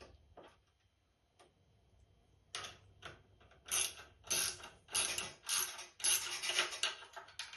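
Bolts being tightened on an industrial sewing machine table with a ratchet, starting with scattered faint clicks and then building into rapid, close bursts of repeated ratcheting with short pauses between them.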